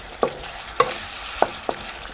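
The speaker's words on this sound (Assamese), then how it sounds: "এতিয়া এইখিনি লগত ভালদৰে ভাজিব লাগিব" Whole spices fry in hot oil for a chicken kofta curry gravy, a low steady sizzle broken by four sharp scraping stirs of a spatula, spaced irregularly across the pan, with no one speaking.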